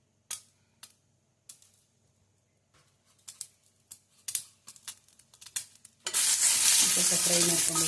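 About twenty green chillies land in hot oil in a pan for avarekalu saaru and burst into a loud, continuous sizzle, after a run of scattered light clicks and taps from the utensils.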